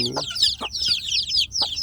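Young free-range village chicks, about one to two weeks old, give a few short, near chirping peeps in quick succession, close and clear with little else around.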